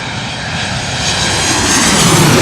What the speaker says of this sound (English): Those Boeing engines are just so amazing.